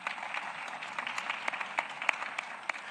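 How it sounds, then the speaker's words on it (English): Moderate applause from a conference audience at the Kigali Convention Center, many hands clapping steadily with a few sharper claps standing out, heard at some distance in a large hall. "a round of applause, please."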